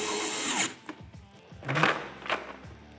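Hand ratchet tightening a bolt on a utility cargo rack on a Can-Am Defender side-by-side; a few separate bursts of close mechanical ratcheting with short pauses between them, no talk.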